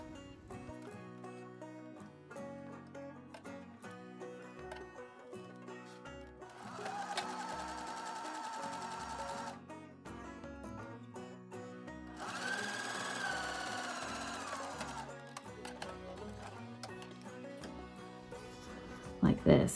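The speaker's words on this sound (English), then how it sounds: "Now we just take it back to the machine and stitch it down." Vintage 1940s-style seam finish being stitched down on a sewing machine, with two sustained bursts of steady machine whirring separated by quieter pauses, close up, under a background of music.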